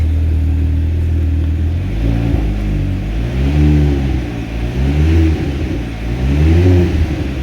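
A car engine idles with a low rumble, then revs up several times in rising and falling surges, loud and close.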